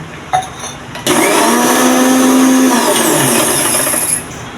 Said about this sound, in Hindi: तो ये दूध और घी को हमने अच्छी तरीके से चला लिया है